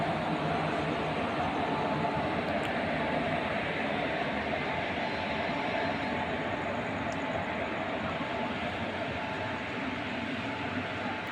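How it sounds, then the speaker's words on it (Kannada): A steady, even roar of a passing Dadar–Pondicherry train at Tumakuru station, dense rumbling noise with no clear breaks throughout. "ದಾದರ್ ಪಾಂಡಿಚೇರಿ ಟ್ರೈನ್ ಇದು."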